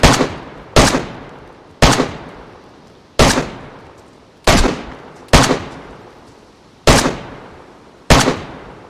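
Gunfire from a weapon in the video game DayZ: eight loud, sharp single shots spaced irregularly about a second apart, each with a short decaying tail, with no talking over them.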